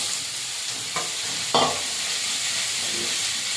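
Chopped raw green banana and potato frying in a kadai with onion, chilli and five-spice seeds, a soft continuous sizzle broken by a couple of sharp clatters as the pieces drop in or are stirred.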